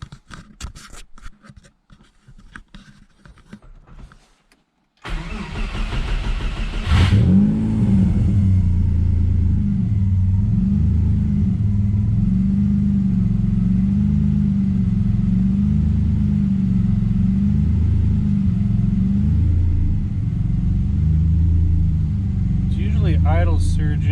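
A turbocharged Subaru Impreza with an EG33 engine starts up and settles into a loud, steady idle as it is driven out of the shop, with quieter knocking and movement beforehand.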